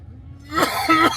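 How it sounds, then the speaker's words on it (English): A single short cough or throat-clearing burst, close and fairly loud, following a moment of quiet. "I'm coughing"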